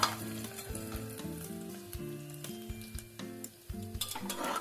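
Chopped onions frying in a pan for mutton kosha, a continuous sizzle with repeated scraping and stirring strokes of a spatula, moderately quiet and close, with no talking.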